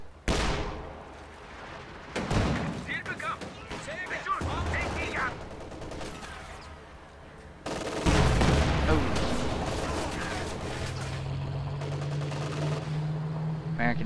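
Gunfire from American infantry fighting Fallschirmjäger in a WWII strategy game, with bursts of shots and rattling automatic fire, heavier blasts and a low rumble. A commentator talks over the battle noise throughout.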